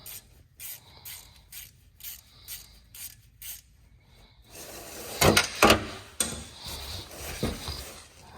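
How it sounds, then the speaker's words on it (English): A short ratchet works a differential drain plug on a Volkswagen MK7 GTI Performance Pack, giving a series of quick, evenly spaced ratcheting clicks up close before louder metallic handling and clunks take over. "I'm glad I have this short ratchet because it fits really well in here."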